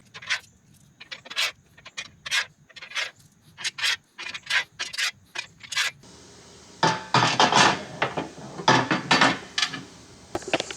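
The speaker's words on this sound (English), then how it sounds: "I just need to feed them to the brackets all along, and then I can start bolting them on" Metal bolts are fed through the brackets of APS iBoard running boards on a 2019+ Chevy Silverado, giving a run of close, short scraping and rasping clicks, sparser at first and then denser and louder.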